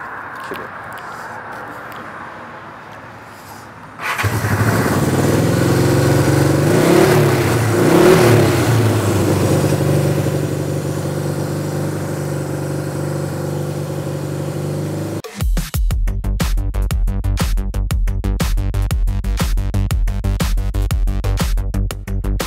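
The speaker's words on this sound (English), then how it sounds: "why don't you start your bike for the first time?" A rebuilt motorcycle with a rebuilt carburetor and new airbox, throttle and grips is started for the first time. The engine catches after a quiet pause, idles loudly and is revved, then settles into a sharper, rapid running beat.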